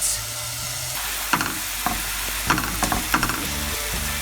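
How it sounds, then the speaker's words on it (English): Turkey burgers sizzle and crackle steadily in hot olive oil over medium-high heat, with a few nearby scraping and pressing sounds as the patties are moved and pressed down. "I'm ready to go in for the frying, a little bit of olive oil"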